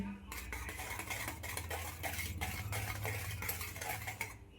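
A spoon works through thick Christmas dry fruit cake batter in a bowl, knocking and scraping against the sides in a busy, close rhythm while a voice talks briefly underneath.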